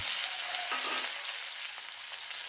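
Small onions, one dried chili and curry leaves sauté in hot oil, giving a bright continuous hiss of sizzling with a few soft stirring touches, close up and without speech.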